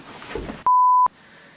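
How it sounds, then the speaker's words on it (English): A single loud electronic phone beep, a pure steady tone lasting under half a second, cuts sharply through a faint background. "Phone."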